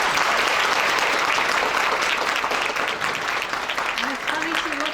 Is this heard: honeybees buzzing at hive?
no